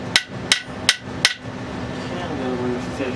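Four sharp hammer strikes on a chamfered metal part of a T96 transmission during disassembly ring out in quick, even succession, followed by quiet background noise.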